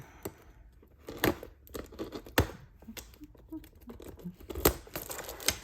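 Plastic packaging of a paper craft kit crinkles and tears in irregular, close-up bursts, with sharp rips between softer rustling.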